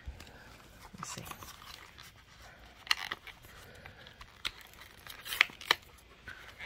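Plastic packaging being torn and pulled open by hand, with irregular crinkles, snips and sharp rips at close range, louder bursts near the end, and no talking.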